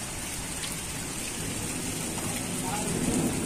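Steady rain falls in a village in Pakistan, a dense, even hiss of drops on surfaces that stays constant throughout, fairly close and unbroken, with no voices over it.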